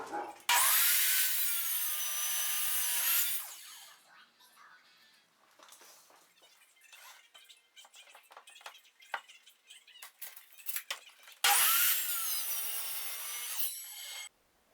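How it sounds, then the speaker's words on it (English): A power saw cutting wooden boards for a joiner's workbench, two loud sustained rasping cuts separated by quieter handling and tapping of the wood. "Just like Rex, I cut my boards."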